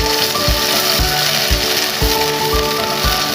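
Steady sizzling of a blended onion paste frying in a pan, with a regular thumping stir every half second or so over the continuous hiss.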